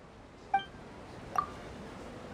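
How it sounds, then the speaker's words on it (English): Two short, quiet electronic beeps from an Akasha terminal in Genshin Impact, spaced about a second apart over a soft hiss and followed by a faint third blip at the end. "The beep is a prompt tone for Akasha operations."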